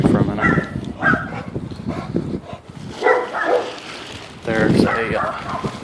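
Neighbor's dogs bark behind a backyard fence in several loud bursts separated by short pauses, a moderately close yard scene with no clear speech.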